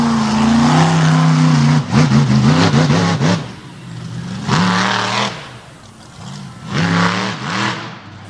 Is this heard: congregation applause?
no